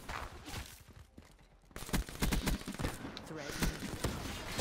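Rapid automatic gunfire in the video game Black Ops 3 rattles in dense bursts amid other game sounds, fairly faint overall.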